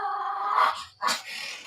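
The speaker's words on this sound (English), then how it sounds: "Hey, damn dog, stop it." A Chihuahua growls and snarls close by in a brief, uneven burst with a short pause, the sound harsh and nasal, with no talk over it.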